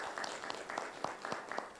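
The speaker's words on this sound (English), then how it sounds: "let's give him a round of applause" A small audience at a breast cancer awareness talk claps steadily in a soft, distant round of applause, the individual hand claps blurring into an even patter for a couple of seconds.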